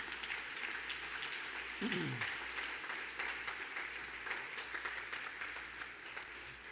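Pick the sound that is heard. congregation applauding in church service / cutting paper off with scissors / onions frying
congregation applauding in church service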